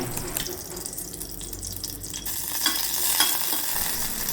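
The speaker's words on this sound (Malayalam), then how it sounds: "ഒരു രണ്ട് സ്പൂൺ നെയ്യ് ഒഴിച്ചു കൊടുക്കാം ഇനി അതൊന്ന് ഉരുകി വരട്ടെ" Ghee melting in a heated frying pan for a Kerala jackfruit snack gives a steady close hiss and soft sizzle that grows brighter partway through, with light stirring clatter and no talking.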